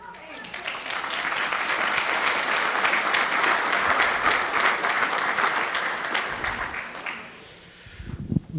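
An audience at a church theology talk bursts into sustained applause, a dense wash of clapping lasting about seven seconds before fading, with a voice speaking briefly at the end.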